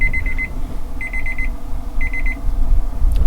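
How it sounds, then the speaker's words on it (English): A cooking thermometer's alarm goes off at 170 degrees while Texas Dragon armadillo eggs cook, giving three short bursts of rapid high beeps about a second apart over a low background hum. "there's our beeper at 170"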